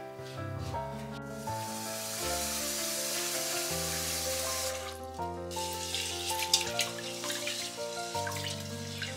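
Tap water runs steadily into a sink as rice is rinsed for soaking in a home kitchen, a continuous wash partly masked by louder background music throughout.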